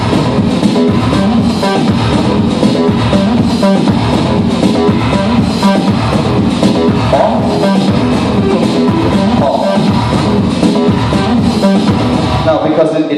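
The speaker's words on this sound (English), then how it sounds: "I will get this typical David Guetta ducking effect" Roland TR-8 drum pattern with sidechain compression pumping on the quarter-note steps, giving a rhythmic ducking swell; loud, dense and continuous with a voice talking over it.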